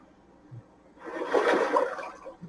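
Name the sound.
rushing water at a water intake in Ghost Recon Breakpoint video game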